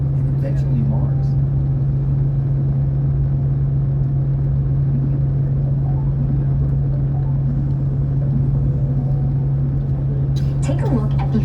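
A tour bus driving through Kennedy Space Center gives off a steady low engine rumble and road drone the whole way, with faint voices in the background.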